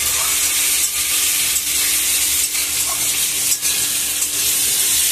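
Potatoes with garlic and green chili paste fry in a pan, giving a steady, loud, close sizzle with small dips where the food is stirred, and no voices.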